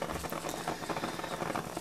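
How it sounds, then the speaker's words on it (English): Water nearly boiling over inside a donabe clay pot on a low gas flame, a steady close bubbling and pattering simmer with no talk. "And it's almost boiling over here."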